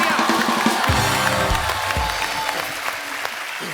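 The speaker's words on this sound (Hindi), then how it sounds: "एक तो ब्रावो रवीना जी के लिए जोरदार तालियां" Studio audience on a TV comedy show claps loudly and continuously, with a few low thumps and faint cheering mixed into the applause throughout.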